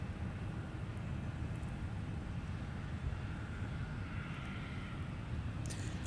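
A Delta Air Lines Airbus A330-300, formerly Northwest, takes off, a steady broad distant engine roar with wind buffeting, no nearby talk.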